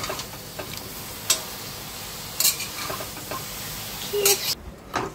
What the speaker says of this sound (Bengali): মাশরুমগুলো একটু নেড়ে চেড়ে তারপরে গ্যাসের ফ্লেমটাকে আমি একদম মিডিয়াম আর লোতে করে ঢাকা দিয়ে দেবো। একটু কষিয়ে নেব মশলা দিয়ে।